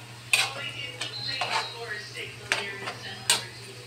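Bihon and pancit canton noodles being stir-fried in a pan, with a few sharp scrapes and clinks of a utensil against the pan over a soft steady sizzle and a low background hum, while someone talks.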